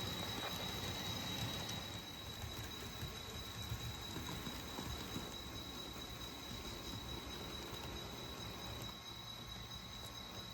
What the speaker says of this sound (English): Number 74 eases train number 6 to its station stop at Granbury.